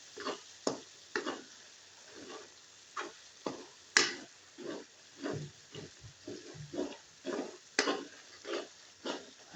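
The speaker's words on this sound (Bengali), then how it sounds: "মশলা কষাইতেছি।" Spices being fried and stirred in a pan before fresh meat is added: quiet, intermittent scraping and sizzling bursts at an irregular rhythm, with a few sharper clinks of the utensil against the pan.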